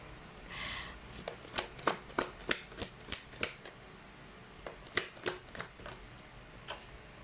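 Tarot-style archetype cards are shuffled in a quiet room, giving a sharp series of crisp riffling snaps in two quick runs, close and clear, with no talk.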